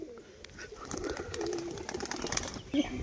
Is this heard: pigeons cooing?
yes